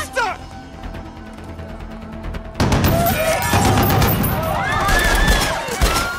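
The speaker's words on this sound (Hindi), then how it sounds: "Oh God, ये तो सचमुच गोलियां चल रही हैं।" Bursts of gunfire erupt in a Bollywood action film scene, a quiet stretch giving way to loud, dense volleys of rapid shots and crashes, with voices shouting over the chaos.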